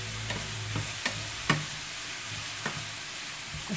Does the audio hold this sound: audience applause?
no